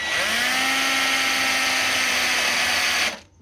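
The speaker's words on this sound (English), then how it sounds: "I'm going to use a little wire brush attachment on the drill" A loud, steady high-pitched whine from a power drill spinning a wire brush attachment, cleaning the rear end of a Mk2 Escort, running continuously for about three seconds before cutting off abruptly.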